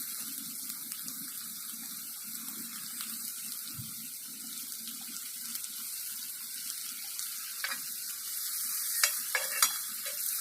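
Tomatoes frying in a pan for a hadga flower vegetable dish, a soft continuous sizzle with occasional stirring scrapes, growing a bit busier toward the end.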